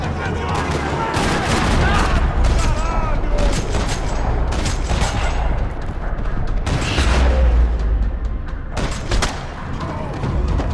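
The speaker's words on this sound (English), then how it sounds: "Another parking lot rattling with gunfire." Gunfire in a parking lot during a Max Payne 3 shootout, with dense rattling bursts and heavy booms crackling almost nonstop amid loud game music and effects.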